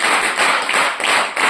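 Loud, dense hand clapping from a crowd at a Telugu Christian sermon, a steady unbroken wash of many palms beating together for the whole stretch.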